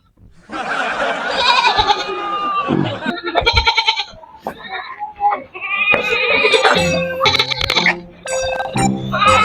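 A goat bleats loudly and repeatedly at close range, wavering cries that come in several bursts with short pauses between them.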